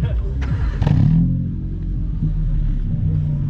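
A modified car at a cars and coffee meet revs briefly with a deep rumble before settling into a low idle, while people chat nearby.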